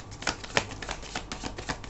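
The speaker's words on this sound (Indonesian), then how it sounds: "Akan shuffle lagi ya." A deck of tarot cards is shuffled close by in a rapid series of riffling, flicking bursts with a few sharper snaps, and no one talks over it.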